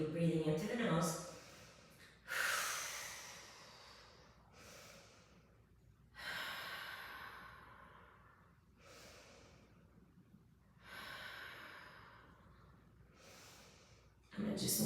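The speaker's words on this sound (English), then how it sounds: "Don't forget to breathe. We're breathing into the nose." Deep breathing through the nose during stretching exercises, repeated long inhales and exhales spaced every few seconds, soft and close.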